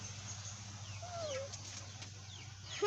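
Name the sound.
baby chickens clucking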